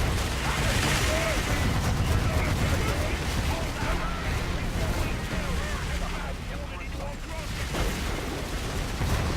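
Turrets fire in a Warhammer video game during a battle against a Space Marine encampment, producing dense continuous gunfire and rumbling blasts, with someone narrating over the steady barrage.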